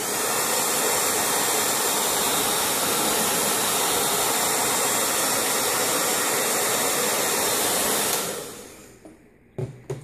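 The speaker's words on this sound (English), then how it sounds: "And then I'm just going to use my blow dryer to set it in." A blow dryer roars steadily at close range for about eight seconds, setting a wig, then cuts off, leaving a few faint clicks and handling noises.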